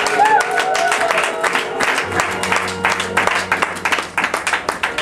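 A church congregation acclaims the Lord with a burst of clapping and cheering that settles into rhythmic hand claps, loud and close, with voices mixed in.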